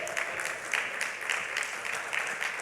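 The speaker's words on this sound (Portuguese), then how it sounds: "Vamos dar uma salva de palmas" Church congregation clapping steadily throughout, a dense, even patter of many hands filling the room with no break.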